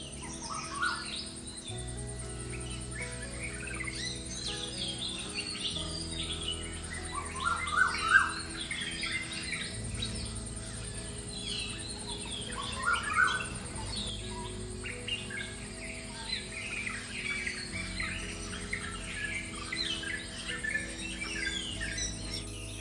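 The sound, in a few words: morning birdsong in Periyar Tiger Reserve forest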